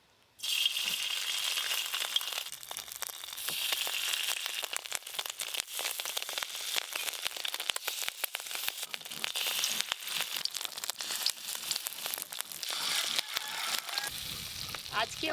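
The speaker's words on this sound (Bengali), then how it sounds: "ওদিকে তেলও গরম হয়ে গেছে। এবার এই বড়াগুলো ভেজে নেব।" Fish roe fritters fry in hot oil with a steady, dense crackling sizzle that runs close and loud from start to finish, with scattered sharper pops and no talking over it.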